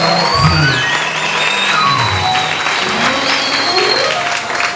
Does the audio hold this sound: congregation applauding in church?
yes